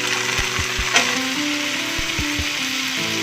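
Sago pearls and cut potatoes frying together in a pan, a steady close sizzle with a few soft stirring knocks and scrapes over a low background hum.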